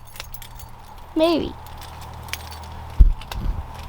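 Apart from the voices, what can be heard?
keys jangling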